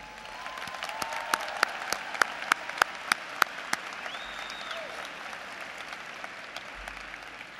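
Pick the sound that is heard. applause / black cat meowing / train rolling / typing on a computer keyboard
applause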